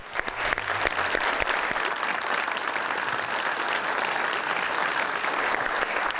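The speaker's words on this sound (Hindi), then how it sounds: "53 मिलियन तालियां भाई" Steady, dense applause from a large crowd, loud and continuous throughout with no pauses.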